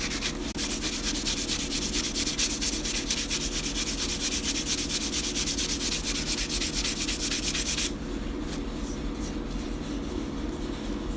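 A wooden stick is rubbed hard against 150 grit sandpaper in steady, rapid back-and-forth strokes, a loud close rasping scratch that suddenly thins and softens near the end.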